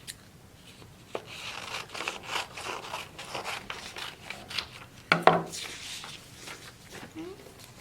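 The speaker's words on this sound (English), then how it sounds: "we're going to cut on the dotted line." Scissors cut paper along a dotted line, a series of short, soft snipping and rustling bursts heard close and fairly quiet, spaced irregularly over several seconds.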